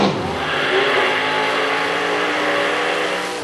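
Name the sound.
supercharged blower drag racing cars launching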